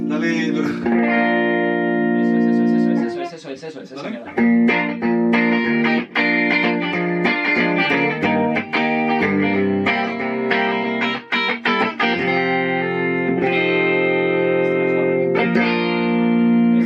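Electric guitar played through a Fender Supersonic amplifier while recording a song, loud sustained chords and picked notes with distortion and reverb, with short spoken remarks over the playing.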